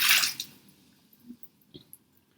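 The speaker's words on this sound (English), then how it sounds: "And I'm going to pour all the vinegar out into the sink." Vinegar is poured out into a sink. A brief splashing gush comes first, then a few faint drips and small squishy sounds taper off into quiet.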